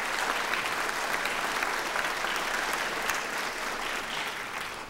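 A legislative audience gives a sustained round of applause for a Dr. Reddy's Laboratories representative in the Louisiana chamber, dense and even clapping filling the whole span.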